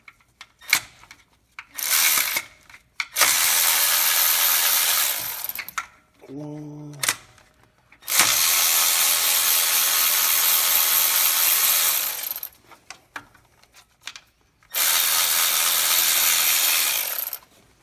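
A ratchet works two 10 mm tensioner bolts loose on a 2011-2016 Ford F-150 3.5L EcoBoost engine, in several long bursts of rapid clicking separated by pauses and a brief tool clatter.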